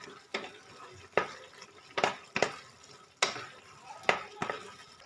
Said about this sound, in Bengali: ঢেলে দিয়ে ভালো করে মিশিয়ে নেব।